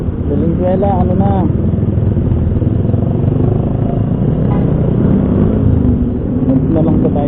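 A big bike motorcycle passes in heavy traffic, its engine rising above the constant close rumble of cars and other motorcycles.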